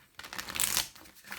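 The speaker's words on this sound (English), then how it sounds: "One more shuffle." Tarot cards are shuffled by hand in one quick riffling burst that lasts about a second, crisp and close, with no voice over it.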